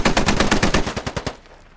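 Automatic gunfire from the SquadOps military shooter game: a rapid, loud burst of about a dozen shots, then it cuts off into a fading echo.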